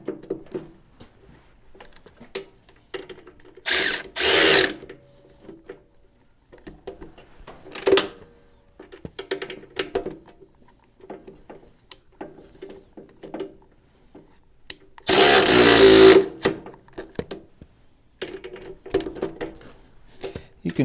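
A ratchet tightens bolts on a Super A Fast Hitch in scattered clicking bursts, with two longer loud runs of rapid ratcheting and quieter taps between them.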